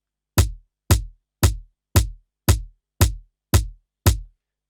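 An amapiano kick drum layered with a crisp percussion hit sounds eight times in a steady groove, each deep thump topped by a bright, sharp click, loud and alone.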